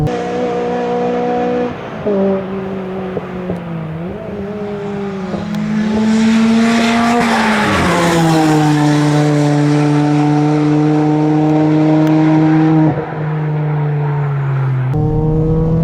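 A Ford Fiesta laps Castle Combe circuit, its engine droning steadily at high revs with clear harmonic bands, pitch dipping and climbing through corners and gear changes, loud and close throughout with no talk.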